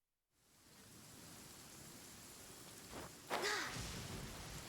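Rain falls steadily in the video game Genshin Impact, a soft, even hiss of downpour that starts after a brief silence and holds without speech. Faint splashy rises appear near the end.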